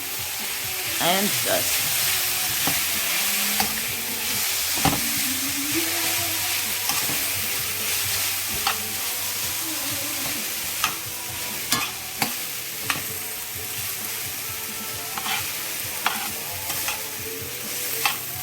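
Rinsed noodles sizzle steadily in a frying pan with sautéed vegetables, while a utensil stirs and taps against the pan in scattered scrapes and clicks, close up, with a brief murmur of speech.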